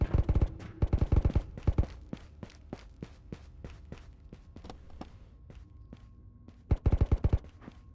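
Video game gunfire rattling in repeated bursts and scattered single shots over several seconds, with sharp distant-sounding cracks over a steady background din and no talking.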